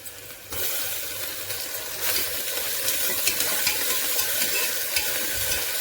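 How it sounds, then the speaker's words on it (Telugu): Onion, green chili and ginger garlic paste go into a hot pan for a biryani, starting a loud, continuous sizzle that swells after they drop in, with intermittent stirring scrapes close by. "ఉల్లిపాయ పచ్చిమిర్చి అల్ల వెల్లుల్లి పేస్ట్ వేసేద్దామండి"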